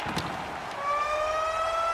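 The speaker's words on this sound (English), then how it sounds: "as the siren goes, that'll mark the end of the second period" In an ice hockey arena during a Tampa Bay Lightning versus Boston playoff game, a loud horn-like siren blares steadily to mark the end of the period, rising out of crowd noise and holding to the end.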